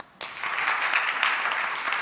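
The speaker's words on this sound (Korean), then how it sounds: "다시 한번 박수" A church congregation at a Sunday service breaks into a burst of clapping that starts abruptly and holds as dense, even applause for a couple of seconds.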